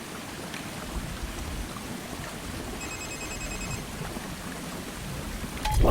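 Steady, dense rain pours in the video game République, a constant hiss and patter that fills the whole scene at an even level with no voices. Any thunder is not distinct, and the rain swells slightly at the very end.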